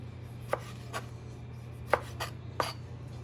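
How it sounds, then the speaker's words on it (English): Three crisp knife cuts through fresh tomatoes on a cutting board in a kitchen, each a short sharp tap with a soft slide between, close up and evenly spaced over a low steady hum. "Some really pretty tomatoes that we're gonna just slice up."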